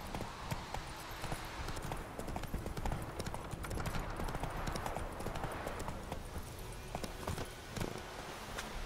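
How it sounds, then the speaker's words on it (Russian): Horse hooves clip-clop in a steady, continuous rhythm while riding in the video game The Witcher 3: Wild Hunt, close and even throughout with no talk. "Ну, давайте все-таки позовем лошадку."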